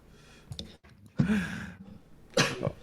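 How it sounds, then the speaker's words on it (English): A sick adult coughs in two or three harsh, close bursts separated by brief pauses, with no talking in between. "This cough will not go away."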